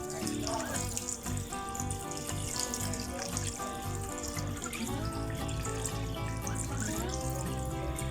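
Water runs from a tap into a container while the boiling water from bamboo shoots is poured out and refilled, a continuous splashing rush with shifting tone, fairly close and steady, without talk.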